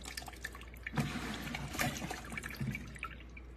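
Dirty water draining out of a flat mop bucket, a gurgling trickle with uneven splashy surges and drips, close by and fairly quiet.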